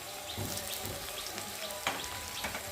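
Fish sizzles in a pan with green chili, ginger, garlic and cumin, a steady close frying crackle with a few sharper spatters and a faint voice in the background.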